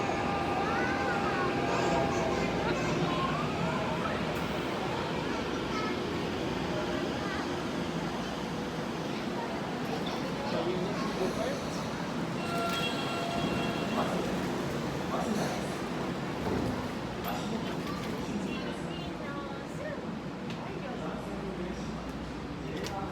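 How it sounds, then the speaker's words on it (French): A Tokyo metro train running, a steady broadband rumble and rush filling the whole stretch, with brief clatters and squeals over the continuous roar. "voilà, c'est le métro."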